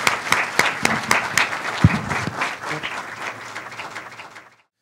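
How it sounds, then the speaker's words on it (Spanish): Audience applause at a lecture event on the global food crisis and Latin America, a strong burst of clapping with a few sharp individual claps that thins out and fades to silence near the end. "Vamos a pedir un fuerte aplauso."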